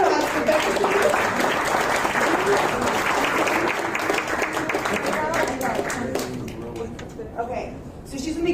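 A crowd at the AnarchAwaken Stage of Anarchapulco 2019 applauds to welcome a speaker, a full, dense wash of clapping and murmur that gradually thins out, with voices audible in the crowd.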